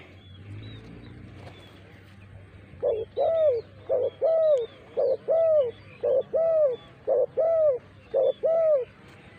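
Spotted doves coo at a dove-calling competition in Surin province, Thailand, giving a steady series of about eight loud, clear phrases, each a short note followed by a longer rolling coo, repeated at even intervals over faint background hum.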